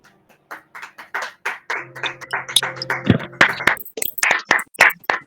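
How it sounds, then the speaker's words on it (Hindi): A small church audience at a fasting prayer gathering claps for Pastor Sagar, a scattered run of hand claps that grows denser, with a voice speaking over part of it. "हाँ, ताली बजा सकते हैं सागर का।"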